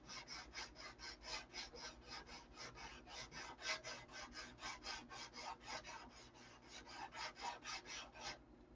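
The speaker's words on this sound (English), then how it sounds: "I find it so hard to believe you guys enjoy watching me sand this stuff" Steady rhythmic rasping of hand sanding on wood, about three strokes per second, close and continuous with no talking.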